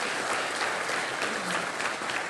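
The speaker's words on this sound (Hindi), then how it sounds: "तालियां इनके लिए।" Steady, dense audience applause fills the whole stretch at even loudness, on a televised talk show studio set, with no voices standing out.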